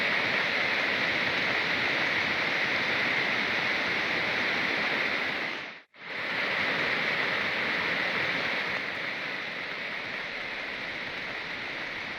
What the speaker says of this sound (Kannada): ಆ ಕಡೆ ಸೇತುವೆ ಮೇಲ್ಭಾಗದಲ್ಲಿ ನೀರು ಹರಿದು ಹೋಗ್ತಾ ಇದೆ.